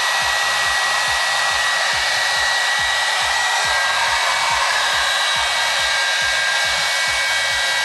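A blowout brush hair dryer blow-drying thin hair, giving a loud, steady whoosh of air with a constant motor whine that runs unbroken and close throughout.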